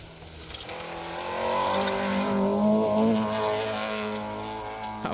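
A rally car, likely a historic or 1400-class entry, drives hard along a loose gravel forest stage at Kielder Forest. The engine drone swells and rises as it passes close and kicks up dust, then eases off.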